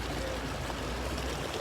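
Water falling steadily into a hot spring pool in Kenya, a continuous close rushing wash with no voices over it.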